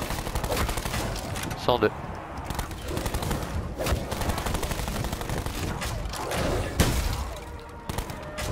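Gunfire in Call of Duty Black Ops 4 zombies on the Tag der Toten map, scattered bursts and sharp shots over a busy game soundscape, with someone talking over the action.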